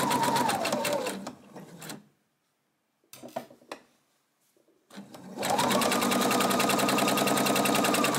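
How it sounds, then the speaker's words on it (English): Domestic sewing machine stitching the lengthways seams of a tote bag: two loud, fast mechanical runs of rapid needle chatter, split by a pause with faint handling clicks and rustles, then a second long burst. "Now we are going to take this to the machine now that we've got it all pinned up and sew those lengthways seams"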